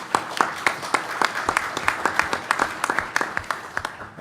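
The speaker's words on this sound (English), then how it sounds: "give a round of applause to our panel" Conference audience applauding a panel on venture capital access, a moderate room of clapping hands for about four seconds, with individual sharp claps audible within the steady patter.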